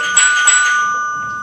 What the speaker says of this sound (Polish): ktoś dzwonił